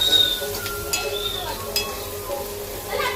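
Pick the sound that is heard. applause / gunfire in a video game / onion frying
onion frying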